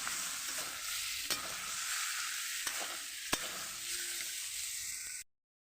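Boiled potato and taro, drained of their water, being stirred in a pan for a fish-head taro curry: a steady soft sizzle with a few sharp scrapes of the spoon, close and alone, ending abruptly.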